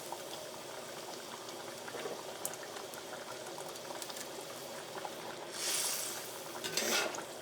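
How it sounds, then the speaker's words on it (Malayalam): Coconut milk chicken curry (chicken mappas) boils in a pot, a quiet steady bubbling and simmering with a few soft pops and brief louder hissing bursts near the end. "ഇപ്പോൾ തേങ്ങാപ്പാൽ നന്നായിട്ട് തിളച്ചിട്ടുണ്ട്."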